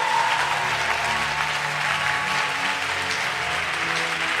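A church congregation applauds Jesus during a worship service, steady dense clapping filling the whole stretch, loud and close with a broad crowd wash and no pauses.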